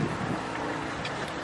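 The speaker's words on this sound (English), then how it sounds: "It's so windy out here" Wind gusting outdoors against the microphone, a steady broadband rush with no voices over it.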